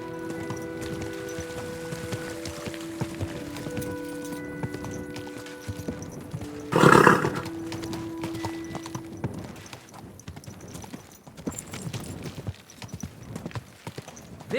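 Steady hoof clip-clops of a horse at a slow walk in the video game Kingdom Come: Deliverance II, with a brief louder burst partway through and no voices.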